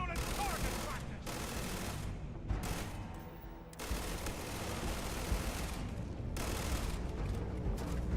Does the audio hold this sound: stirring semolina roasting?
no